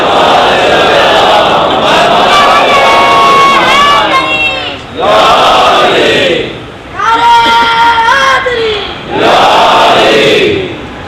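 A large Muharram majlis congregation recites salawat together in loud unison, swelling chanted phrases repeated in waves with brief pauses between, crowd voices filling the hall.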